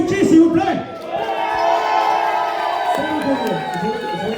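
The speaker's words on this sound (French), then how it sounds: "Un tonnerre d'applaudissements pour Inky, s'il vous plaît." A loud crowd of fans cheers, whoops and shouts together, sustained high-pitched voices swelling and fading close by.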